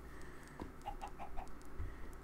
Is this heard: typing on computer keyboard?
no